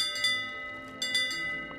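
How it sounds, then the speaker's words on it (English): The ship's bell on a sloop in the pirate video game Sea of Thieves rings twice, each clang bright and ringing out before fading, close and alone. "one of my underused features in Sea of Thieves is the bell."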